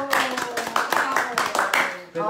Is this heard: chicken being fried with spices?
no